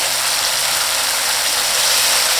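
Chilli sambal belacan boils hard in a pan, a steady close, dense bubbling and sizzling hiss that runs on unbroken with no voices.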